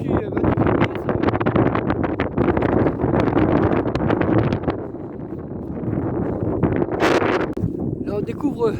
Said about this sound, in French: il y a beaucoup de vent en ce moment